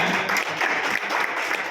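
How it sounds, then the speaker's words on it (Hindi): An audience at a Ram birth-anniversary poetry recital breaks into dense, steady applause, many hands clapping loudly together for the whole stretch without pause. "एक गीत के लिए आप जरा जोरदार ताली बजाएं"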